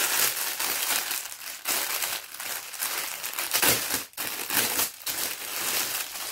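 Plastic packaging around a new 34 by 74 cm towel crinkles and crackles steadily close up, with a few brief pauses between bursts of rustling.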